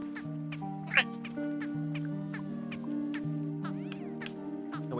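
Small Pluffin creatures in the video game Wanderstop chirp and squeak in repeated short, regular bursts over a soft sustained musical backdrop, with one louder squeal early on.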